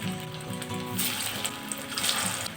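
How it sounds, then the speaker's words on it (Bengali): Soybean koftas frying in hot oil, a continuous bright crackling sizzle that grows busier partway through as more pieces go into the pan. "এখন কোপ্তাগুলো এক এক করে ছেড়ে দিচ্ছি।"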